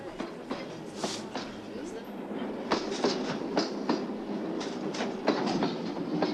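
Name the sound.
train carriages rolling on rails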